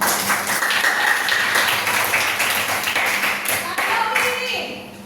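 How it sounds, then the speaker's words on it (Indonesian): A classroom group claps hands together in a brisk burst of overlapping claps, fairly close and steady, fading slightly toward the end with some voices mixed in. "Tepuk tangan."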